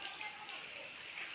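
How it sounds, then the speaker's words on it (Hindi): Steady rain falling outdoors, a soft continuous hiss of drops without pauses, faint and even. "बारिश हो रही है, आवाज़ भी आ रही है"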